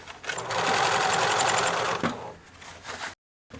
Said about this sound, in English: for this I use just my sewing machine